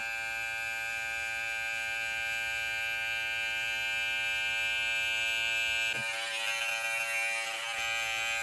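Electric hair clippers run in a steady, close, loud buzz while cutting a high taper during a self-cut, with a brief change in tone near the end as the blade meets the hair.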